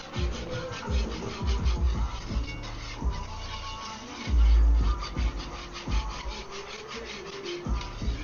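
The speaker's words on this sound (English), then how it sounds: "So I had it running on high, stirring, stirring, stirring, stirring." Cajun chicken and sausage gumbo roux stirred on high heat in a pot, giving steady repeated scraping and rubbing strokes, close and moderately loud with no talking.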